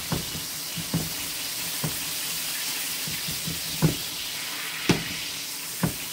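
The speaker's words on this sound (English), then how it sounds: "oh goodness, it's trying to start popping" Sunflower and extra virgin olive oil frying in a pan, a soft steady sizzle broken by about eight sharp, separate pops spread unevenly across the clip, close and fairly quiet.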